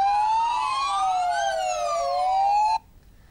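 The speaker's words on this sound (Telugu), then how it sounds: "సైరన్ వస్తుంది." A police or ambulance siren wails loud and near in slow rising and falling sweeps for under three seconds, then cuts off abruptly into quiet.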